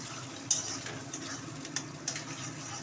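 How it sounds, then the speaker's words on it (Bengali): Two eggs frying in a pan, a low steady sizzle with a few light clinks and ticks of a utensil scattered through, fairly quiet with no one speaking. "এখানে আমি দুটো ডিম ভেজে নিচ্ছি ধুলো ধুলো করে"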